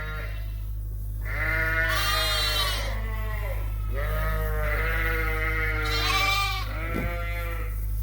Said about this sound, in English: there's about 115 ewes in here tonight with their lambs.